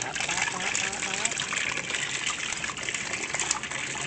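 Water gushes steadily to fill a pet ferret's bath, a broad continuous rushing close by, with a voice talking over it.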